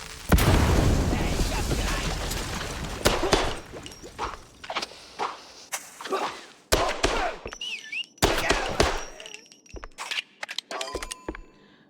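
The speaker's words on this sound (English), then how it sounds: "Okay, time to TNT!" A TNT charge goes off in a mouse detective video game, a loud booming blast opening the stretch, followed by a string of sharper thuds and pops spread across the rest, with a voice briefly heard between them.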